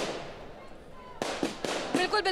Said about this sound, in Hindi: पटाखे भी चल रहे हैं